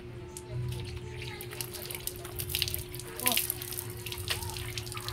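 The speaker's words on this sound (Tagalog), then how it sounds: "Buhusan mo na lang siya, Casey." Water is poured over an elderly man to rinse him during a bath, giving close splashing and dripping with uneven spatters, and a low steady hum runs underneath.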